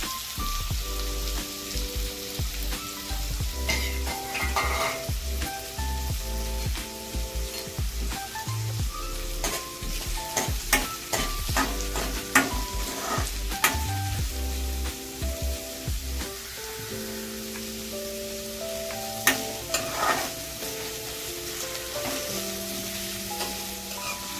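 Diced onion fries in a pan for vegetable upma, a steady close sizzle with spoon scrapes and clinks over background music, no talking.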